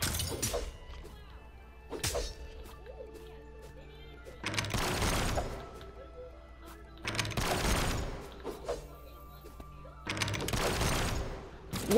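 Guns firing in the 2D fighting game Brawlhalla: four loud, sharp bursts of rapid gunfire roughly every two and a half seconds over steady game music and effects.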